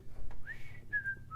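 A person whistles a short, faint two-part tune, a rising glide followed by a sustained tone that drops at the end, heard alone in a quiet room.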